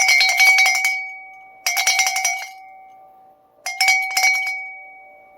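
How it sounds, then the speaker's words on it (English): Three bursts of rapid metallic bell ringing, bright and clangy, each lasting about a second and separated by short pauses, with a lingering ring between bursts. "Here's bell 1."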